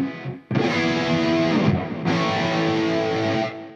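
Big, distorted electric guitar chords from a humbucker-equipped guitar, washed in chorus, reverb and delay, ring out in two sustained strums, loud and alone with a short gap between them.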